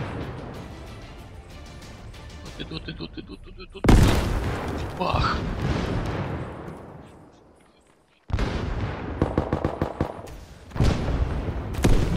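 In the Arma 3 military game, heavy explosions tear down a house: a sharp blast followed by a long rumbling collapse that fades out, then another loud burst of booms and crackling debris, with a voice speaking briefly.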